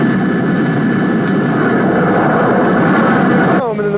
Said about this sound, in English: your jet takes off, launching you into virtual airspace